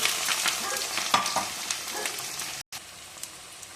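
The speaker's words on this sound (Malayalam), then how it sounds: "അതിനുശേഷം ഇഞ്ചിയും വെളുത്തുള്ളിയും ഇട്ട് കൊടുക്കുക." Ginger and garlic frying in a pan for a dried bilimbi pickle, a dense crackling sizzle with light spatula scrapes, loud and close, briefly dropping out for a moment before the hiss resumes slightly softer; no voices.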